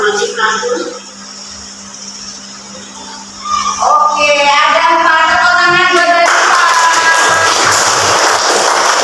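A classroom group bursts into sustained clapping after a student answers at the front of the room, loud, close applause that follows a stretch of quiet talk and a brief earlier patter.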